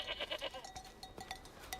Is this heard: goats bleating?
yes